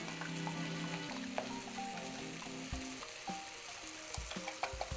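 Beaten eggs mixed with cilantro tops hitting a hot pan and sizzling loudly up close, with a steady frying hiss broken by scattered pops and occasional stirring and clinking of utensils.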